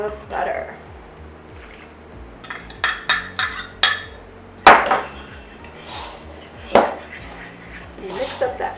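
Metal spoon working almond flour, kosher salt and butter into a crust in a bowl: a run of sharp clinks and scrapes against the bowl, clustered in bursts with short pauses between, close and fairly loud.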